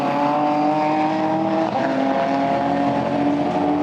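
GT4 cars racing at the Nurburgring in 2014, with BMWs among them: a steady, loud engine drone holds through the whole stretch, with layered tones from several cars at once and no talk over it.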